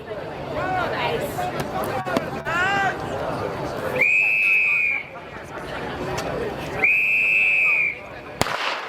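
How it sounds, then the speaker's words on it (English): Two long, shrill whistle blasts a few seconds apart over crowd chatter, followed by a sharp crack like a starting gun, at the start of a Bay Sheffield footrace in 2020. "It's 2 whistles and the gun."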